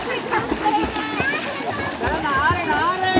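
Children splash about in river water after a Karma festival immersion, with steady splashing under loud children's voices and chatter.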